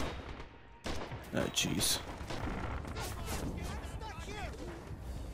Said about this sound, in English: It's hard to tell which way the bullets are coming from.